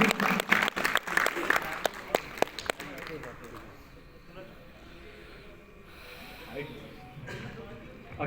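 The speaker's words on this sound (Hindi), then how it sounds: "जोरदार तालियां बजाइए भाई" Bursts of clapping from an audience at an Indian Army Vijay Diwas ceremony honouring war widows and veteran soldiers, dense for a few seconds and then fading into a quieter murmuring room.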